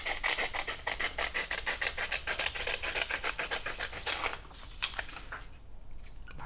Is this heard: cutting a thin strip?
yes